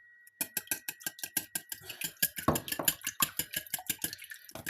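Eggs are whisked in a bowl for blini batter, a rapid regular clatter of the whisk against the sides, close and crisp, with a brief scraping pause midway.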